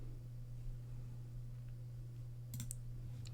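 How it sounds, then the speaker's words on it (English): Two quick, faint clicks of a computer mouse arrive late, over a steady low electrical hum, with no talking. "We'll just use the mouse while I fix the video real quick."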